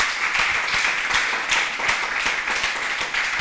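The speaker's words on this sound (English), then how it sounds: "let's give a warm applause to Thomias." Audience applauding after a talk, a thin, moderately loud patter of scattered hand claps from a small crowd, continuous and fairly even throughout.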